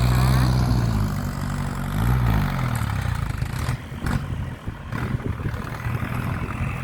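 Tractors preparing ground for planting grass rumble with a continuous low engine drone that rises and falls as they work, with clattering bursts and a fading revving toward the end.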